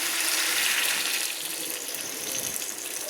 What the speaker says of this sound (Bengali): আমি একটু বেশি জল অ্যাড করলাম